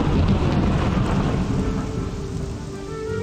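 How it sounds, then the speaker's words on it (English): Rain hisses and thunder rolls steadily in the video game Morrowind, a continuous dense wash of storm noise with no voices. "I love that thunder sound."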